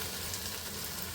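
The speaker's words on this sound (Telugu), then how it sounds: "టమాటా ముక్కలు వేసేస్తున్నాను." Chopped tomato pieces drop into a hot pan and sizzle softly, a brief faint frying hiss.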